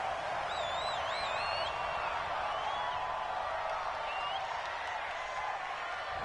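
Home crowd in a PS4 football video game cheering and applauding in a steady, broad roar, with whistling tones rising above it, continuous throughout with no speech.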